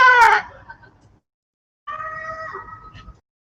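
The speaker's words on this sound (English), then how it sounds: "It lets out a screech." A monkey screech sound effect for a jungle creature in a Starfinder tabletop session gives two shrill, harmonic cries: a sharp burst, then silence, then a longer wavering screech, loud and up close.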